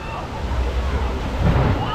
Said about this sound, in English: The rapids do look pretty rapid. Lots of bumps, lots of splashes.